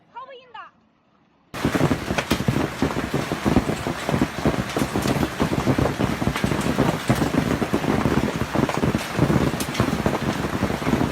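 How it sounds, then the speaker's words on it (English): Hail pours down during a thunderstorm in northwestern Arkansas, a dense, steady roar of pelting ice with sharp crackling impacts and buffeting wind noise, starting abruptly after a short quiet moment with brief speech. "Hail poured down on northwestern Arkansas after thunderstorms passed."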